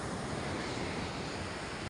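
Sea waves wash onto a beach in a brief, continuous broadband rush, fairly close and steady, with a hint of wind and no voices.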